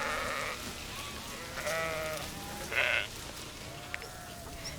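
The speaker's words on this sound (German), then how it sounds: "Die Schafe halten die Wiesen frei von Gebüsch." Flock of sheep bleating in open meadow pasture: several wavering bleats from different animals, overlapping and at moderate distance, over a steady outdoor background.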